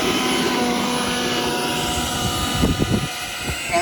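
A Stinger 90 remote control jet airplane flies over a runway, its turbine giving a steady, loud whine that holds throughout, with some bumping and wind noise toward the end.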